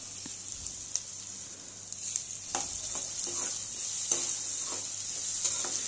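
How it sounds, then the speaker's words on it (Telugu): Chopped carrot and capsicum fry in a pan for vegetable fried rice, a steady close sizzle broken by repeated scraping stirs and clinks, with no talking. "carrot mukkalu and alage capsicum కూడా వేసి ఒకసారి ఫ్రై చేసుకోవాలి"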